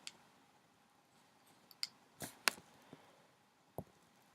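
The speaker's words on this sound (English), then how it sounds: "So 5 clicks to turn it on." Small sharp clicks from the button of a Tornado RCS vape mod, about five or six brief taps spaced irregularly, close and crisp against a quiet background.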